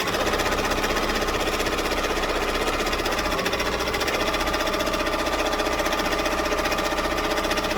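A loud embroidery machine stitching the nose of a pig-shaped hand sanitizer holder, a continuous, fast mechanical hammering and whirring that stays close and constant throughout with no talking.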